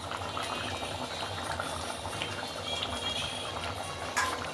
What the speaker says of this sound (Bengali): ঝোলটা ভালো করে ফুটে এসে গেলে